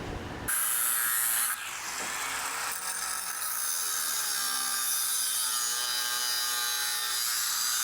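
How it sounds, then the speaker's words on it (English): Harsh, continuous cutting of square steel tubing in a '68 Chevelle SS build, a loud high-pitched grinding whine that starts abruptly and holds steady throughout, close with no talk. "Let me cut this in half."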